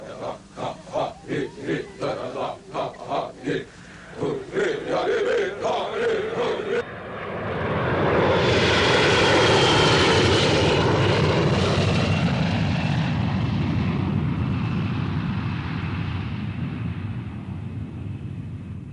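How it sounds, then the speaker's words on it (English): A reconnaissance airplane flies at low altitude over a Chavante Indian village in Brazil. A loud propeller-engine drone swells in after a pulsing opening section and holds, then slowly fades as the aircraft passes. "on reconnaissance flies at low altitude over a village of Chavante Indians without any previous contact with the outside world"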